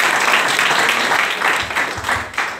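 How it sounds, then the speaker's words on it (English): A church congregation claps through a Sunday service, loud, close applause with a rough pulsing rhythm and thumping low hits near the end, and no speech over it. "Put your hands together for the Lord. And clap."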